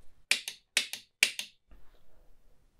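Buttons on an OffCourse membrane keyboard are pressed in quick succession, giving six sharp, close clicks grouped in three pairs, followed by faint low handling noise.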